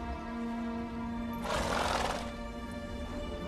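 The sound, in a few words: horse Roach neighing, from The Witcher 3 video game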